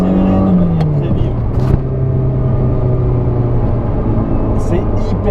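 A Ferrari 328 GTS accelerates hard, its engine note climbing and then settling into a loud, close rumble as it pulls away, with someone talking over it.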